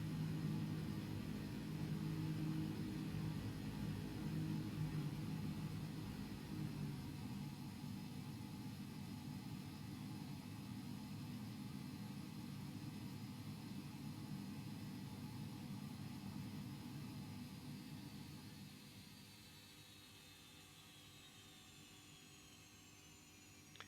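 A King Air turboprop engine in the X-Plane 12 flight simulator spools down at shutdown: a steady broadband turbine roar with high whine drops in level and fades, with the whine sliding lower near the end.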